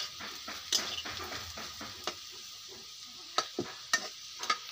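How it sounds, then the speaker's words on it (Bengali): Potatoes fry in a pan in a home kitchen, giving a soft continuous sizzle with occasional scraping and light clinks of a stirring utensil, close by and without speech. "আর এই দিক দিয়ে দেখো আলু ভাজি হইতেছে"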